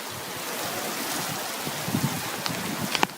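Fairly hard rain falls steadily outdoors, a dense even hiss with a few louder splats and drops near the end, no talking.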